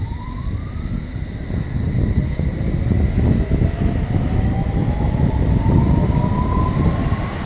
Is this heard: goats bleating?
no